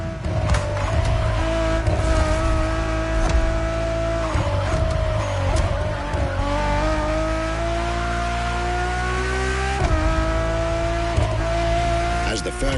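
A Ferrari Enzo supercar engine in The Crew Motorfest racing game, heard as a loud, continuous high-pitched engine note that climbs through the gears with brief shift dips and tire noise, under a narrating voice.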